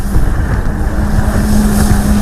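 Flyboard water jet rig roaring steadily over the sound on the Outer Banks, a loud continuous rushing engine-and-spray noise mixed with wind buffeting the microphone, no voices.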